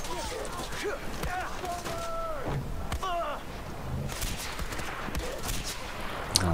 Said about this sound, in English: there's just a bit of panic fire to clean them out